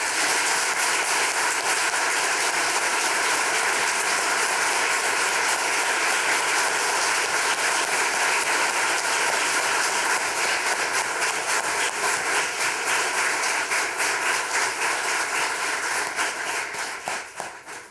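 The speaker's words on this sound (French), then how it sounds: "Je vous invite à les applaudir chaleureusement." Audience applauding newly sworn-in firefighters at a Maria-Chapdelaine 2022 swearing-in ceremony, sustained dense clapping from many people that holds steady at full strength for a long stretch before tapering off at the end.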